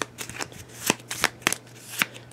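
Deck of playing cards riffled and shuffled during a tabletop game, a series of crisp brisk ripples at close range, about five bursts in quick succession, no talk.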